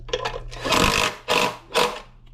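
Screws being driven back in by hand while reassembling a 2014 Audi S5 B8.5 engine from a bare block, heard as three close bursts of scraping, rasping mechanical noise with short gaps between them.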